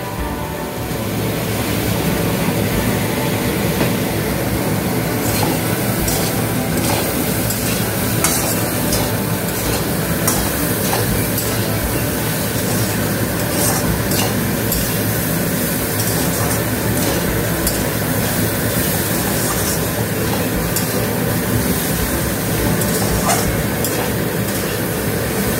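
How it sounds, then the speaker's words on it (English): Steady, dense sizzling of shukta frying in a pan on a low flame, continuous and fairly loud throughout with no talking. "Now she is frying in low flame."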